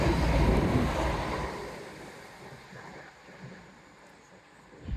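Outdoor wind buffets the microphone in a heavy, rumbling gust that is loudest at first, then eases into a lighter, steady rustle before swelling briefly again at the end.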